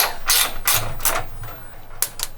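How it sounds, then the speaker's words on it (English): Spanner and socket ratchet undoing a 13 mm bolt on the side rail of a Toyota Landcruiser 79 Series, giving several bursts of close, rapid clicking separated by short pauses, with no talking. "Better get a spanner and a socket."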